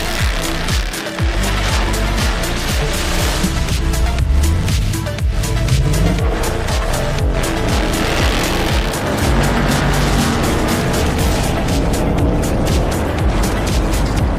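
A Dodge Charger Hemi launching hard from a standstill for a quarter-mile start, the engine roaring loud and close as it climbs steadily through rising revs and gear changes.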